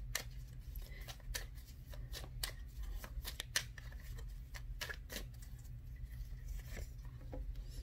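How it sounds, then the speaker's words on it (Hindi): Tarot cards being shuffled and drawn, producing soft, close card flicks and riffles in irregular bursts over a quiet room hum. "मैं इधर एक कार्ड और निकालना चाहूंगी।"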